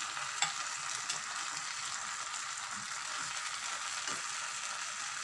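Masala of green chili, ginger, garlic and coconut sizzles in a pan for chicken curry with drumstick leaves, a steady close hiss with faint stirring clicks and one brief sharp tap near the start.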